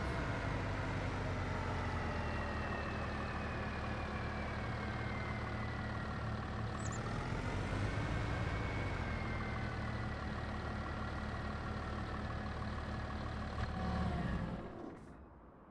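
A farm tractor engine runs steadily at close range, a dense continuous drone with a slight dip in pitch midway before the sound tapers off at the end.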